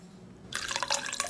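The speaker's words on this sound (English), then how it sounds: "Pour me a glass of water." Water is poured into a glass as a radio comedy sound effect: a brief, bright splashing trickle starts abruptly after a short quiet moment and continues close and clear, with no voices.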